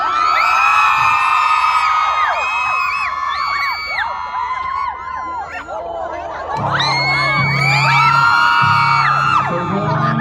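A concert crowd screams and cheers loudly with high-pitched whoops and shrieks, welcoming the singers on stage, while music with a steady low beat enters partway through.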